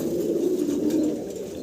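A grizzle-coloured Spanish single-crest pigeon gives one continuous low, throaty coo, close and steady throughout, with no talk over it.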